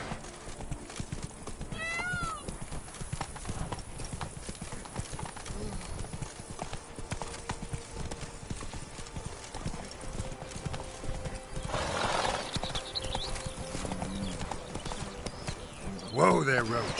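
Geralt's horse Roach trotting in The Witcher 3, a steady clip-clop of hooves running throughout with a couple of whinnies, under ambient game sound and occasional talk.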